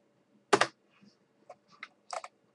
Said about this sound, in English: type in ASCII character map